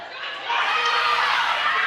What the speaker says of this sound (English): can hear the crowd's getting a little loud for this one